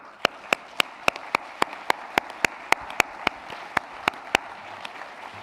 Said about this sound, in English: Please join me once again in applauding them.